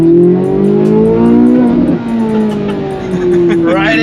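A Corvette Z06 accelerating hard out on the road, its engine note climbing through the gears with a strong, loud roar that dips briefly at a shift before rising again, heard from inside the car.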